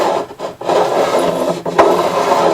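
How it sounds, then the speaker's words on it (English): A fret beveling file is drawn along guitar frets, making close, rough rasping strokes with short pauses between passes. "You can just listen to the files, all you got to do. And you can tell, you know, when to quit."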